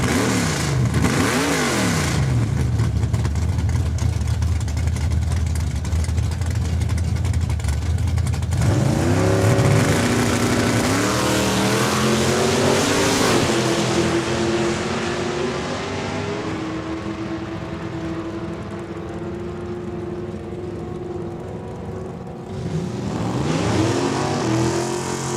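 Drag racing cars, including a 1974 Ford Maverick, at Saskatchewan International Raceway in Saskatoon. Loud engines rev and roar as cars launch and scream down the strip, the sound rising and falling for a long, unbroken stretch.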